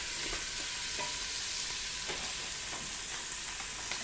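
Ingredients for a seafood soup fry and get stirred in a pot, giving a constant bright sizzle with a few soft scrapes from the stirring, close and even, with no one talking.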